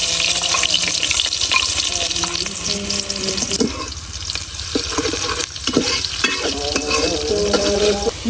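Onions frying in oil in a pot for beef khichuri, a steady close sizzle with stirring scrapes and clatters throughout, over soft background music.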